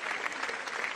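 Studio audience on a French television show applauding, a brief dense burst of many clapping hands at moderate volume, with no talk over it.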